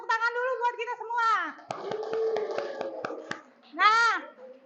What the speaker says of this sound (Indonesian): Coba tepuk tangan dulu buat kita semua